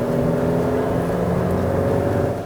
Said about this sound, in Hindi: तो इंजन की आवाज़ और थोड़ी सी बेहतर हो सकती थी, इंसुलेशन बेहतर हो सकता था।